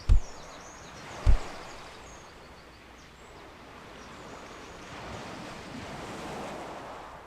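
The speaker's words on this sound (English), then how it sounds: "You can hear the sounds of the shoreline going by," Ocean surf washes steadily onto a shoreline in the virtual world of Second Life, with a soft, continuous wave roar and wind-like hiss after two brief thumps at the start.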